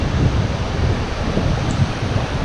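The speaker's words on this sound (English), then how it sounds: "Just getting over here by the waterfall." Steady broadband rush of a waterfall inside a cave with rock formations and blue water, a continuous wash of falling water with low rumbling swells and no voices.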